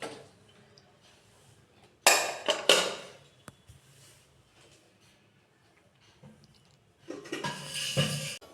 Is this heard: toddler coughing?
no